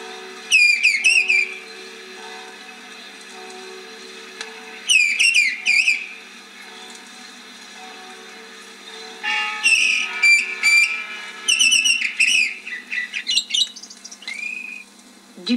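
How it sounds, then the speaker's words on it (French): A mistle thrush sings loud, fluty whistled phrases in repeated bursts separated by pauses, rich and clear over a quiet background hum. "Sauvage et solitaire, la grive draine est la première à lancer son chant du soir."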